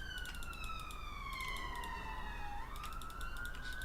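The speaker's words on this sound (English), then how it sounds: "siren." An emergency vehicle siren wails faintly in the distance, its tone gliding slowly downward and then jumping back up, alone against a low background hiss.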